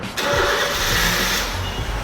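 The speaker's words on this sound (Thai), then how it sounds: "นี่รถติดทันทีนะครับ" A 2014 Honda City fires up via an aftermarket push start button, a quick crank catching into a loud, close engine rev that settles toward idle.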